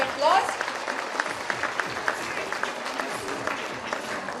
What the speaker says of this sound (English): I request everyone to encourage our students with a huge round of applause.